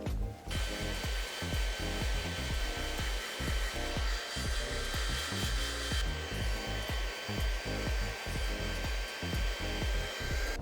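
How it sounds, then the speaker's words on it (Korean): Hair dryer blowing steadily as it dries long hair after a perm, a loud, continuous whoosh close by with a faint tonal whine and shifting roughness as the airflow is moved around. "드라이기로 말릴게요."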